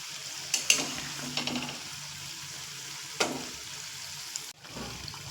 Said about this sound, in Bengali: দুটো তিনটে করে দিয়েই ভাজবো